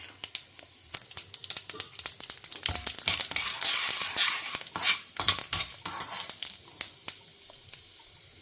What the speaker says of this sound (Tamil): கடுகு, உளுத்தம்பருப்பு, கடலப்பருப்பு போட்டிருக்கிறேன்.